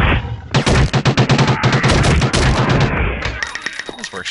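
Machine gun fire in the video game Nosferatu, a loud close rapid burst of shots in steady rhythm, then a second ragged burst after a short pause.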